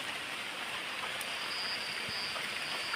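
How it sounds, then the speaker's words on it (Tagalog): Steady rain falls in a dim outdoor setting, a soft continuous hiss at low level with a few faint scattered drops and no talking. "Tapos sabayan pa ng ulan."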